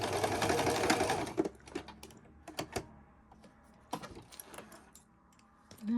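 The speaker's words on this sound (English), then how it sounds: "I'll just sew up the gaps, and then they can be sewn to the body" A sewing machine stitching closed the gaps on a handmade soft toy duck: a loud rapid whirring burst at the start, then scattered clicks, taps and short mechanical clatters, close by and without talk.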